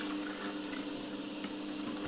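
Liquid pours from a chute onto chocolate in a dessert recipe, giving a steady, continuous watery gush at moderate volume with no talking.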